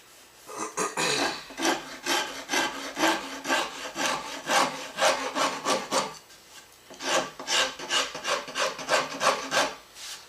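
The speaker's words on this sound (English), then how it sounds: "We'll sand into that." Wood of a guitar head cap is sanded by hand in quick, rhythmic back-and-forth strokes, close and clear, with a short pause midway before the rasping strokes resume.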